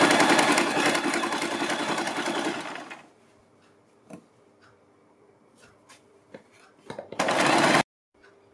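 Sewing machine stitching along a folded crease on a kurti, running loudly and steadily for about three seconds, then quiet with scattered clicks and handling taps, then a second short loud burst before stopping.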